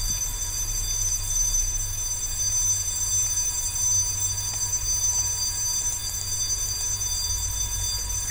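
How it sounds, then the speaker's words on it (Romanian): An alarm ringing in the Asylum horror game, a steady high electronic tone with bright harmonics running unbroken over a low rumbling hum, loud and constant with no speech. "Cum se aude numai alarma, hai să fugim de alarmă."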